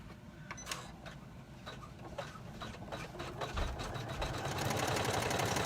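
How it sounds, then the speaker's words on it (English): A sewing machine top stitching a key fob pouch, quick close mechanical clicks and a running motor that builds into steadier whirring toward the end, with no voices. "now we're going to top stitch that down"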